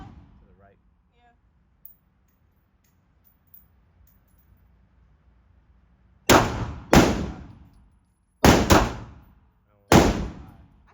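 Four sharp, loud gunshots at an outdoor gun range, two close together, a pause, then a quick pair, with a final shot, each ringing briefly after a quiet stretch.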